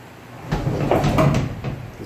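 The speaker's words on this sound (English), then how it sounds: "This door is very difficult to move." A damaged door is dragged open with difficulty, a close scraping, grinding rumble that swells for about a second before easing off, with no talk over it.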